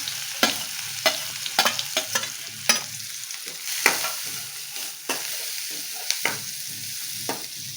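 Onions frying in oil with vegetables, seasoned with asafoetida and turmeric for a stuffed winter rotla, under a steady sizzle with about a dozen sharp spatula scrapes and taps at uneven intervals, close and fairly loud.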